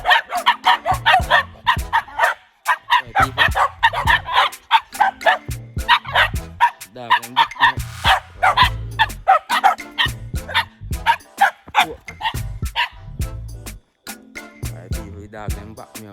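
Several dogs bark loudly and continuously at night in Port Antonio, Jamaica, with rapid overlapping woofs, yips and occasional whimpers close by.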